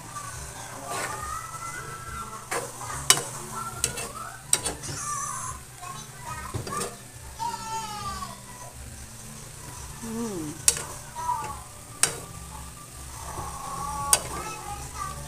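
Spicy chicken with corn and water spinach simmering in a pan with a little water, a steady low sizzle and bubbling broken by sharp clinks and scrapes of a utensil stirring against the pot.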